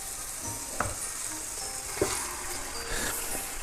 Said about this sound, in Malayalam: നമ്മുടെ വേവിച്ച് വെച്ച ഡക്ക് ഇതിലേക്ക് ആഡ് ചെയ്ത് കൊടുക്കണം